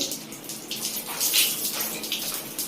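Hot water from a water geyser that flows slowly splashes steadily out of the tap into a basin or bucket, a close, fairly faint continuous wash with brief louder gushes.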